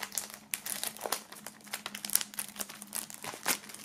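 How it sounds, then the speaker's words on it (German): Plastic shrink film crinkles and tears as it is peeled off an album box set, a dense run of close, crisp crackles and rips with no talking. "So, Folie kann auch hier wieder ab."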